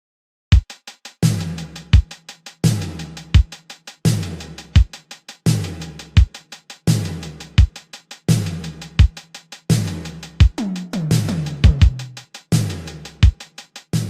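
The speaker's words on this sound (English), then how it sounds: "We have this very lush, gated snare drum reverb." Eighties-style synthwave drum pattern with a lush gated snare reverb: steady kick hits and punchy snares, each snare cut off abruptly, repeating in a regular groove with fills near the end, loud and alone.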